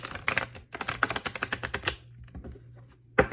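Cards are shuffled with a rapid run of crisp, snapping riffle clicks, followed by a quieter pause and one last sharp slap.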